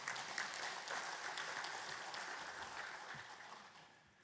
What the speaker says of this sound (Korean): 맞으시면 동의하는 박수를 한번 치시고 가시겠습니다